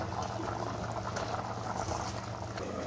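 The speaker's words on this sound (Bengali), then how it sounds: "দেখুন ঝোলটাও কত সুন্দর ফুটে গেছে, টকবক করে ফুটছে।" Tomato fish broth bubbling steadily in a pan, a dense, continuous close-up simmer of liquid that stays even and unbroken throughout, with no talk over it.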